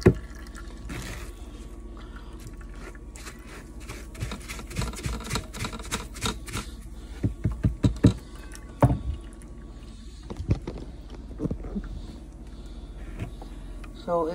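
Rice-based horchata liquid strained and pressed with a rubber spatula, without cheesecloth: close, soft wet squishes, drips and scraping taps in irregular bursts, with no talking.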